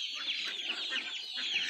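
Forty-day-old vaccinated desi and kadaknath chicks chirp and cluck in a steady, busy chorus of repeated high peeps, close by with no talking.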